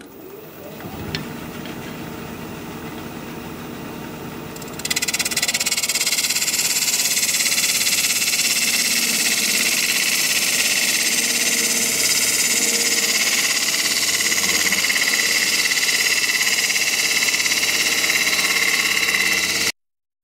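A wood lathe spinning a pedestal bowl at 1,000 RPM starts up partway through, a faint background hum jumping to a loud, steady, broadband whir that holds unchanged to the end.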